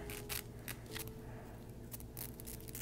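Scissors snip through a braid on a knotless braided wig: a handful of short, crisp cuts close up at an uneven pace, with no talking.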